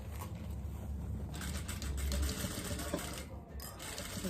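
A sewing machine backstitching the seam of a diaper holder, a steady close whirring stitch sound running throughout, fairly faint with no talk.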